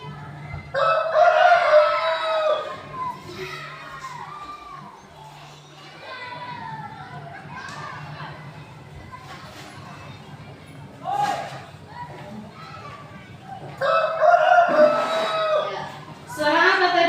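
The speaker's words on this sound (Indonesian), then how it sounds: "suara ayam jantan berkokok" A rooster crows twice, loud and near, once at the start and again near the end, with children's chatter and clucking hens in between.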